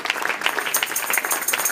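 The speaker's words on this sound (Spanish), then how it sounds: "Un aplauso para ellos." Brief burst of applause from a church congregation, close, crisp overlapping claps in a quick irregular patter.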